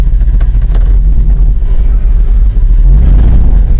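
GMC truck driving with a loud engine and no brakes, a deep heavy rumble droning continuously and close, swelling slightly near the end, with no talk over it.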